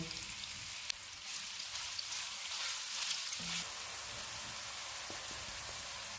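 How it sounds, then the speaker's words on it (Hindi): Sliced onion fries in hot oil with cardamom and black pepper for mutton pulao, a steady, close hiss and sizzle with faint crackles running throughout. "एक प्याज डालेंगे, इसको गोल्डन ब्राउन फ्राई करेंगे।"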